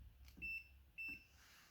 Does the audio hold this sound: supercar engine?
no